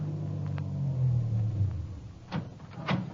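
In an old radio drama, a car engine rumbles low and then pulls slowly away from the curb, followed by a couple of faint thumps toward the end.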